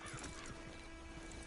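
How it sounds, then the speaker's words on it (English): A horse in Red Dead Redemption 2 Online gives a quiet whinny over soft ambient game noise, faint and brief. "Get on the horse when you're ready."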